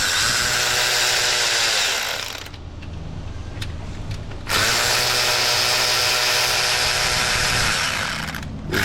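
A power tool, likely an impact driver or drill, backs out 10 mm oil cooler bolts on a leaking engine, loud and close, running in two long bursts with a brief easing in between.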